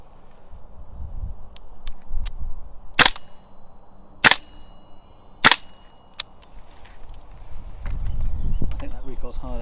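Airsoft M4 gas blowback rifles, a Tokyo Marui MWS and a GHK, fire three sharp single shots spaced about a second apart. Each crack cuts through low background rumble and faint voices in between.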